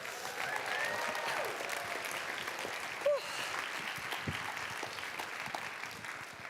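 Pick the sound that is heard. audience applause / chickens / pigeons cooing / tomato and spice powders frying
audience applause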